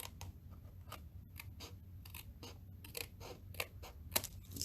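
Quiet, close snipping of scissors through paper, a series of irregular small cuts with soft rustling.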